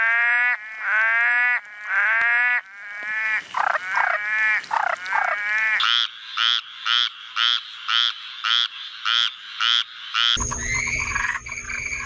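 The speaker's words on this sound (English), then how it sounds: "frog, frog." Frogs croak loudly and close, in a series of repeated calls that turn into a fast, evenly spaced pulsing chorus, with a sharper electronic-sounding tone at the end.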